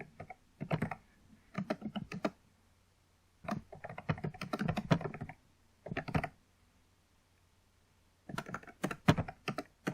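Bursts of computer keyboard typing in several separate runs of rapid keystrokes, close and clear with quiet pauses between, while a web developer profile is entered on Upwork; no one speaks.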